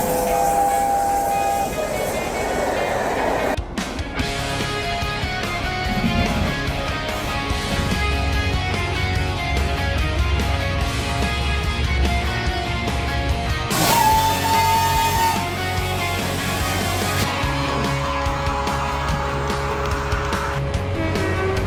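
Avanti West Coast Class 805 train running in a train simulator game, with a steady rumbling drone, rail clatter and rising and falling engine tones, a chime near the start and again mid-way, loud and continuous with no talk.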